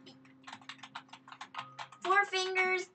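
Computer keyboard typing during a Kerbal Space Program play session: a fast, uneven patter of close key clicks, joined near the end by a person talking over the keystrokes, with a steady faint hum underneath.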